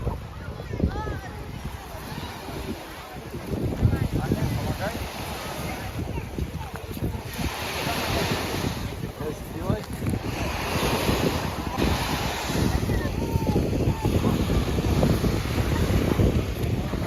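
Waves washing onto a shell-covered beach on the Yeysk Spit, a continuous surging rush with strong wind buffeting the microphone, while a person talks over it.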